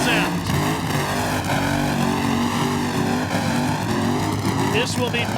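A nitro funny car engine roars loud and continuous at an NHRA drag race, the 1995 Winston Select Finals, as John Force's car rolls out, with crowd noise mixed in.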